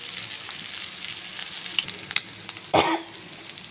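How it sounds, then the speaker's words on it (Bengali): Fish sizzles steadily in a frying pan at close range, with scraping stir noises and a brief louder clatter near the end, and no speech. "এই যে এখানে মাছ ভাজতে দিয়ে দিয়েছি।"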